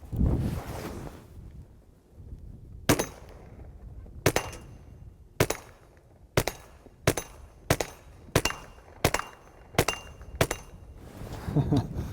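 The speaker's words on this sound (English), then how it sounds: "here go the first 10 rounds out of the Checkmate QD on my little Ruger 2245" A Ruger 2245 pistol fitted with a Checkmate QD suppressor fires ten rounds at an irregular pace, each a sharp, fairly close crack over steady outdoor wind noise.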